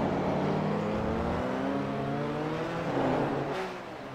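A race car engine in iRacing at the Le Mans circuit, heading out of Arnage toward the Porsche curves, revs hard and accelerates with rising harmonic whine, loud and continuous, shifting pitch midway and easing slightly at the end.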